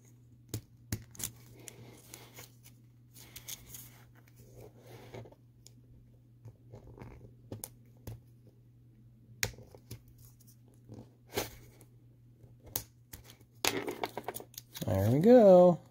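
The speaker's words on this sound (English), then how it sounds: "Or, in that case, I could just cut them out since I'm going to do a wheel swap anyway." Small cutters snip the tires out of a Hot Wheels Poison Pinto die-cast car, giving sharp, close clicks and snaps scattered irregularly over a faint steady hum, with a short louder burst of handling near the end.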